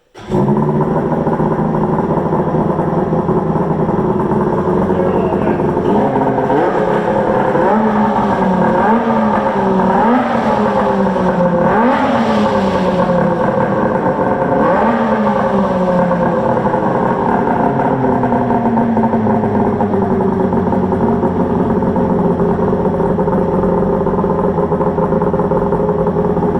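The freshly rebuilt engine of a Polaris 680 Ultra triple snowmobile, fitted with a new Tim's Precision pump, fires up close by and runs loud and continuous. It rises and falls through several revs near the middle, then settles back to a steady idle.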